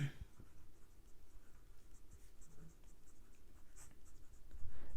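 Pen writing an equation on paper, a close, continuous soft scratching and tapping of strokes, with faint background noise and no clear talk.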